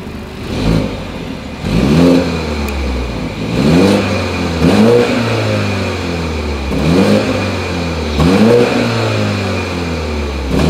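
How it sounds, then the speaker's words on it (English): A 2020 BMW 530i's exhaust is revved repeatedly, several rising throttle blips spaced a couple of seconds apart, each climbing in pitch and falling back to a steady idle, loud and close with no talk. "As always, here is that exhaust clip."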